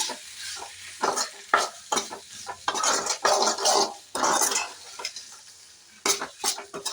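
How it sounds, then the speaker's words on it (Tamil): Pasta being stirred in a hot pan with a spoon scraping the metal in irregular strokes over a soft sizzle of frying, close and fairly loud, with no talking. "இப்போ இதை நல்லா மிக்ஸ் பண்ணிக்கோங்க"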